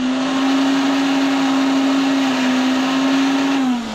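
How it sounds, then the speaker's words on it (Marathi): Kitchen mixer grinder whirs loudly and steadily, blending garlic, coconut and coriander without water, its motor pitch dipping slightly as it winds down. "पाणी न टाकता आपल्याला हे मिक्सरला फिरवून घ्यायचे आहे"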